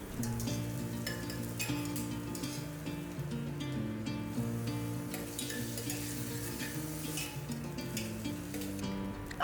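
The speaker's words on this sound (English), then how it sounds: "she added some ghee, then cumin seeds, chopped garlic, grated ginger, green chili, onions, and sauteed them for a minute" Ghee sizzles in an Indian home kitchen cooker as cumin seeds, chopped garlic, grated ginger, green chili and onions are sauteed and stirred. The frying runs steadily throughout, with music playing over it.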